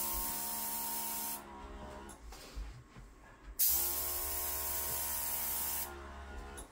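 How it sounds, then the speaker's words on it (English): A close, loud hissing spray of Aprehend bed bug treatment onto a bed frame rail runs in two long bursts separated by a short pause filled with faint handling noises. "I'm spraying that rail, being close to the mattress."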